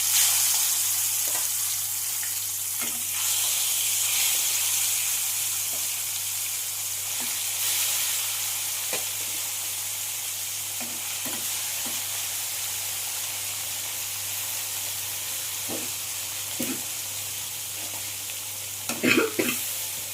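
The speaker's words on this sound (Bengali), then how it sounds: "তেল গরম হয়ে গেছে। এবার আমি মাছগুলো এক এক পিস করে দিয়ে ভেজে নিচ্ছি।" Pieces of tilapia fish fry in hot oil in a pan, a steady broad sizzle running throughout with occasional sharper pops and spatters, loudest near the end; no one speaks.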